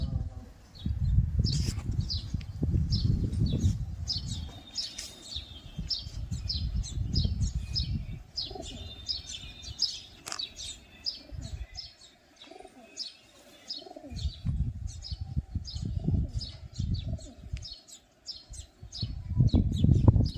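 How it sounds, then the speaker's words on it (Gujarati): Pigeons gathered to feed coo in low, throaty bursts while small birds chirp steadily above, with occasional soft flutters nearby. "જોઈ શકો છો દરરોજ કબૂતર જમવા માટે આવી જાય."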